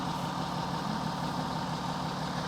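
A 3-litre Audi Q7 engine idles with a steady, even low rumble, continuous and unchanging, moderately quiet and heard alone.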